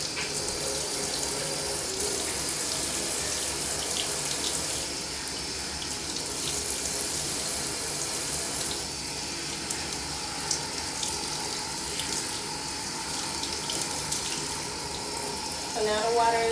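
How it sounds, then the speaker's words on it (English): Cool water runs steadily from a tap while long hair is rinsed straight through during a wash, a constant close hiss and splash that lasts throughout with small shifts in tone, with no talk. "So now the water is nice and cool."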